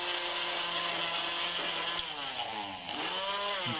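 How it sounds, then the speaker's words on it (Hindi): An onion is ground in a kitchen grinder, a loud close electric whir running steadily for a few seconds with a brief dip in pitch as the load shifts, then spinning back up; no talking. "तो ये प्याज है, इसको हम ग्राइंड कर लेंगे अच्छे तरीके से।"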